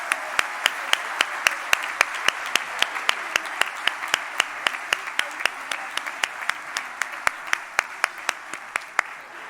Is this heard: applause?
yes